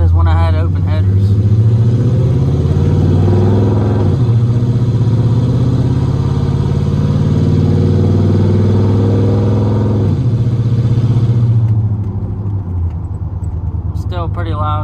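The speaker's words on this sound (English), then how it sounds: "Pretty loud inside the cab, you know, it's got that exhaust drone to it" A loud, steady exhaust drone fills the cab of a Chevrolet Silverado fitted with a loud aftermarket exhaust, droning continuously for about twelve seconds before easing off, with someone speaking over it.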